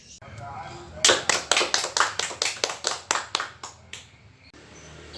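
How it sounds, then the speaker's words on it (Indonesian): A classroom full of students claps for group 1 in a burst of about fourteen quick, sharp claps lasting roughly three seconds, close and loud, then fading out. "Tepuk tangan dulu untuk kelompok 1."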